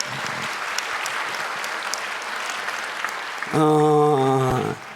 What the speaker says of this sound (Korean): 우리 한번 이제 감사해 박수다 드립니다